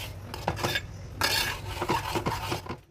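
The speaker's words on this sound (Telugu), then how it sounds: "వేసుకున్న తర్వాత ఇలా నీట్గా కలుపుకోవాలి." Eggs with turmeric and ginger-garlic paste being stirred in a pan, a close scraping and rasping of a utensil against the metal in uneven strokes, with faint sizzling underneath.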